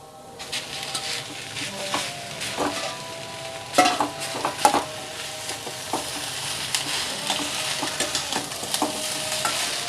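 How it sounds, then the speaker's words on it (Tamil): Lemon rice is stirred in a pan over a steady oil sizzle, with repeated scraping and clinking of a spoon against the metal and a few sharper knocks. "பாருங்கள், இப்போ சாதத்தை கலந்துக்கிறேன்."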